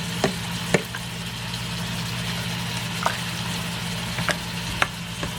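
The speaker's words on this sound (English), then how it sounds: "as we simmer away in here, we'll see how thick it is" A beef chop suey sauce simmering and beginning to boil in a pan, making a steady bubbling sizzle with a few sharp clicks of a utensil scattered through it.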